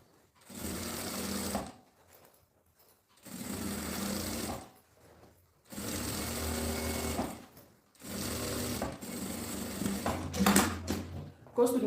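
A domestic sewing machine stitches fabric in several sustained bursts of whirring, broken by short pauses, with a quieter stop-start pattern near the end.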